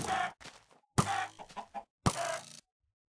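A chicken in the video game Hack Slash Mine clucks in three short, squawking bursts separated by brief silences, with no talking.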